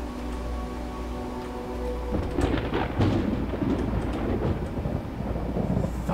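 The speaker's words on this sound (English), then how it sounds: "That's it, we get thunder." Thunder in the video game The Talos Principle: Road to Gehenna, a low rumble that swells into a loud, crackling roll about two seconds in and keeps rumbling, with a rain-like hiss across the scene.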